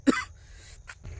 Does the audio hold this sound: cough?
yes